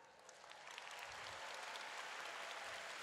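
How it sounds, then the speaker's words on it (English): Audience clapping at a speaker event, a steady, dense wash of many hands heard at some distance, fairly quiet and unbroken for three seconds. "This clap is for you"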